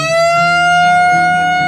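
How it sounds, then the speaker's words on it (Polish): A siren sound effect in a morning radio studio holds one loud, steady, high tone for about two seconds, alone with no talking. "Nie, wyłącz tą syrenę"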